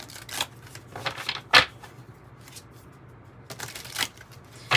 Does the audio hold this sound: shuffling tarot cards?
yes